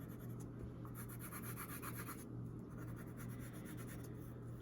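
A pencil scratches and rubs across paper to draw a texture, producing a faint, close, steady scribbling with short repeated strokes and no talking.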